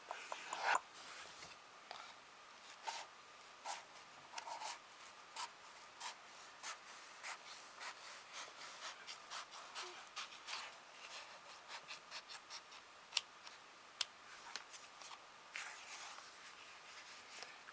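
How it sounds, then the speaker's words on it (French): Scissors cutting fabric into two pieces for an egg cozy: soft, close snipping and rubbing sounds in an irregular rhythm, faint and steady throughout, with no talking. "donc je vais couper deux morceaux comme ça"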